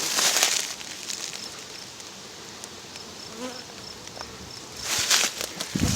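A faint, steady buzz of honeybees hums around a hive being split into a nucleus colony in a quiet outdoor setting, with louder bursts of buzzing swelling near the start and end.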